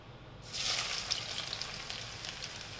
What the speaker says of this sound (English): The oil is hot. We're going to start by adding the onion